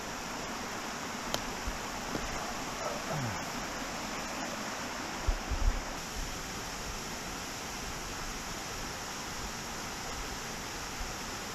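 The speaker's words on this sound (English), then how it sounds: "The top of the waterfall here." Rushing water at the top of a waterfall on a forest hike, a steady broadband roar like a stream pouring over rock, continuous and fairly close, with a few faint knocks and footstep-like thumps over it.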